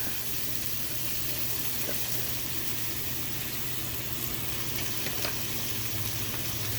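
Bacon frying in oil inside a pressure pot, giving a loud, steady, even sizzle that fills the whole stretch without pause.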